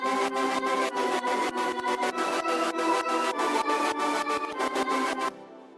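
Frenchcore remix drop built in Ableton with the Reese bass muted: fast, relentless pounding kicks under dense distorted synth layers, loud and continuous before stopping suddenly.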